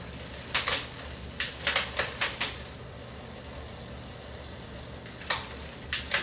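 A bicycle rear derailleur shifts gears on a bike being assembled, giving short bursts of sharp chain clicks in small clusters separated by quiet pauses, close by.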